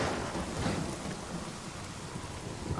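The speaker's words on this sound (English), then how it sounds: "I don't like the sound of all this thunder." Thunder rolls under steady heavy rain in the zombie video game Days Gone, a dense wash of rainfall with low rumbling throughout, moderately quiet and with no speech.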